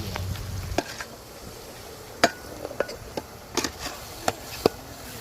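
Chicken leg pieces being stirred in a cooking pot, with scattered metallic clinks and scrapes from the utensil over a low sizzle, some strikes sharper and louder than others.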